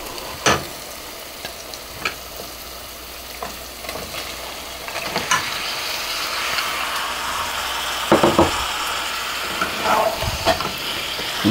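Mutton pieces sizzle and fry in hot masala for a rezala, with a steady crackling hiss broken by sharper bursts of sizzle and spoon scraping as the meat is stirred through the spices, close and alone.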